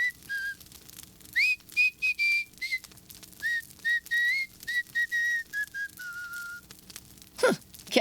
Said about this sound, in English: All I remember is one of the henchmen whistling.